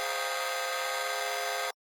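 A square wave drop synth run through a bitcrusher, distortion and auto-panning sweeping left to right holds one loud, gritty, continuous tone, then stops abruptly near the end, leaving silence.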